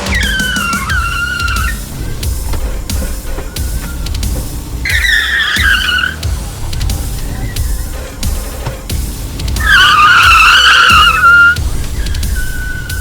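A Mini Cooper revs and tries to spin its tires for a burnout, giving repeated short squealing tire chirps over a steady engine drone, with a longer, louder squeal near the end.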